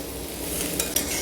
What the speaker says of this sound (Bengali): আর বিনসটা দিয়ে ভালোভাবে নেড়ে নেব।